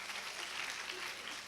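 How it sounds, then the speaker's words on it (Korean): A church youth group audience claps for a skit team, a steady wash of applause throughout with no talking over it. "우리 수고한 스키팀 다시 한번 박수 부탁드리겠습니다."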